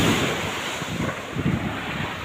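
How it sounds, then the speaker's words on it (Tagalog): Strong sea waves surge and wash onto a provincial beach, a steady broadband roar with gusts of wind buffeting the microphone and swells peaking now and then. "Sobrang lakas ng alon"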